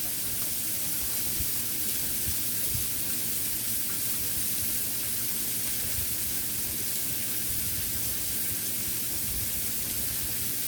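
Onions and curry sizzle steadily in a pan while cooking curry cabbage, a dense, even hiss that holds at a constant level throughout with no voices.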